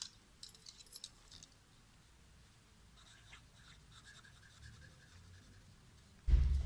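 Pen scratching on paper while working a math exercise, faint and close, in short intermittent strokes over a quiet room, ending with a sudden heavy thump.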